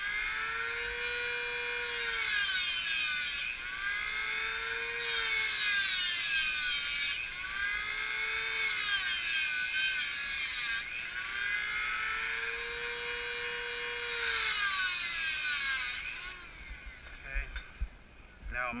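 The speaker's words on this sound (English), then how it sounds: "Now we'll cut the other side." Hand saw cutting through a fishing rod holder, steady back-and-forth strokes in a regular rhythm, close and loud with a ringing whine on each stroke, fading out near the end.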